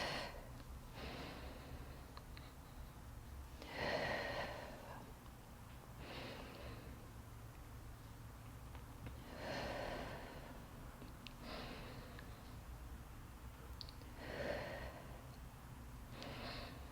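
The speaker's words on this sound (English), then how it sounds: "Exhale to come up" Forceful exhales during a postpartum core workout, a series of breathy puffs recurring every few seconds close to the mic over a low steady hum, with a voice speaking between them.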